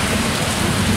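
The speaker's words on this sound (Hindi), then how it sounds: "काफ़ी ज़बरदस्त बारिश हुई, अभी तक बारिश हो रही है।" Heavy rain pours down at a bus stop in Bukit Bintang, Malaysia, a dense, loud, unbroken hiss with no talking.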